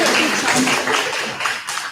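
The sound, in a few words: audience applause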